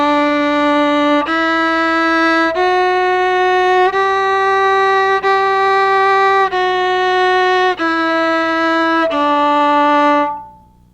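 A solo violin bows a scale-fragment exercise, several sustained notes stepping up and then back down, each held roughly a second, close and clear with no talking, before a soft fade at the end.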